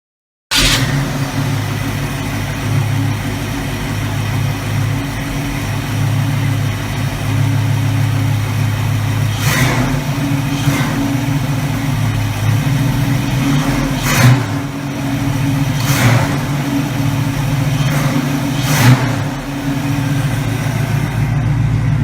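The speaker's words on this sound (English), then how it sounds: "Okay guys, I'm going to start the engine now. It starts pretty easy and it has plenty of power" A 1967 Ford Mustang engine running loud and close at a steady rumbling idle for about twenty seconds, with a few brief rises in pitch from light revs.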